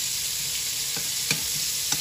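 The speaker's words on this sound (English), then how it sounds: "You brown your butter." Butter browns in a pan with a steady, bright sizzle and hiss throughout, broken by a few faint ticks and pops, no voices.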